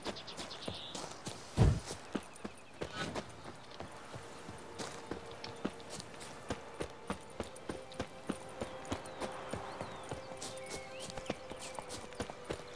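Hoofbeats of the horse Roach in The Witcher 3: steady, soft clip-clop of hooves walking in a regular rhythm, fairly faint, with one louder thud early and quiet ambient game sound underneath.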